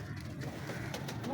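Pigeons in a loft, a soft low cooing murmur, quiet and somewhat distant over faint background noise.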